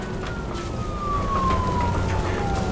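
A police car siren wails steadily after a crash in the video game Nobody Wants to Die, its tone sliding slowly downward over a dense rumble of traffic and ambience.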